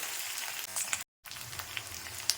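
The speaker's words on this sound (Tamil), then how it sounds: "நல்லா வெண்டைக்காவை இதில் நல்லா வறுக்கணும். 5 நிமிஷம் நல்லா வறுக்கணும் எண்ணெயில்." Okra fries in oil, giving a bright, steady sizzle with small crackles and a brief gap of silence partway through.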